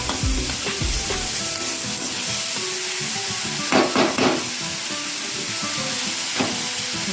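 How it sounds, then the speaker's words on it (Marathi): Green tomatoes sautéing in a pan for a green tomato and chilli chutney, a continuous sizzle broken by scraping stir strokes and a few louder clatters, no voices. "टोमॅटो पण छान परतून घ्यायची थोडीशी फार शिजवत बसायचं नाही आपल्याला"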